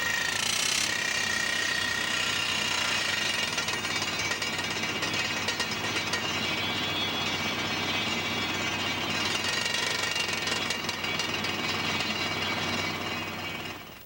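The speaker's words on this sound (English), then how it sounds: "A track drill can crawl along to where the holes must be dug and then drill the holes." A track drill bores blast holes at a quarry or construction site, giving a steady, loud, continuous percussive hammering with mechanical rattling that holds for the whole stretch and fades at the end.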